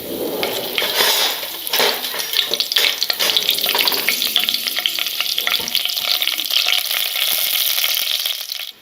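Bay leaves fry in hot oil for country-chicken biryani, a loud, steady close-up sizzle with crackling bursts and occasional stirring scrapes against the pan, running unbroken for several seconds before cutting off.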